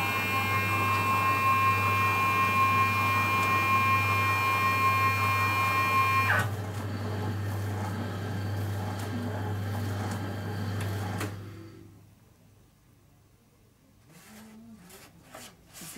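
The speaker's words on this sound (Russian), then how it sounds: "Включаем мешалку." The mixer of an MDSh 600 auger filling machine packing scrub hums steadily alongside a whining tone, then the tone stops and the hum fades out, leaving near quiet with a few faint clicks.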